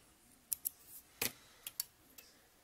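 Small scissors trimming excess black thread while tying a fly, a handful of crisp, close snips in quick irregular succession against a quiet background with no talking.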